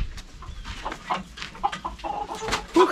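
Hens in a coop cluck and squawk in short, scattered bursts, fairly close, with a louder squawk near the end.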